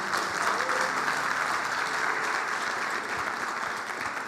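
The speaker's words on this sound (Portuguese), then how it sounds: "Aplauda o Senhor." Church congregation applauding steadily during a sermon, a dense, sustained wash of clapping that fills the room without pause.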